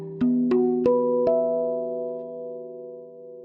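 Four single strikes on a steel tongue drum in a trance scale, including the left-side middle note, stepping upward, each bright metallic tone overlapping and sustaining into a long, slowly fading ring.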